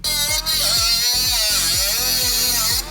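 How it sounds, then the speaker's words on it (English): Steady high-pitched whir of a power tool cutting a sharp piece of metal off a salvaged GR Supra car body, buzzing continuously for about three seconds with a brief dip near the start and a regular pulsing undertone. "I'm gonna go ahead and cut this piece off so the sharp metal is not in my way."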